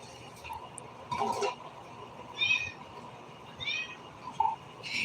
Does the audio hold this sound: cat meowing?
yes